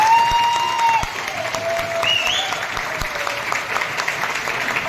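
An audience at a company event applauds steadily for several seconds, with clapping moderately loud and continuous, while a few tonal whistles or squeals sound over it.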